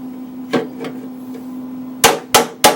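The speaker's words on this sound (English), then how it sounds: "We'll hammer it back in." A hammer strikes a bent metal part of a Husqvarna 7021P lawn mower, a few sharp clangs followed by a quick run of three loud, ringing blows close up, over a faint steady hum.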